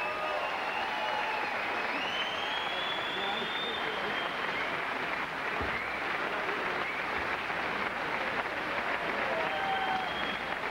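A boxing crowd applauds both fighters after a big bout, dense steady clapping and cheering filling the hall at full level throughout, with whistles rising above it.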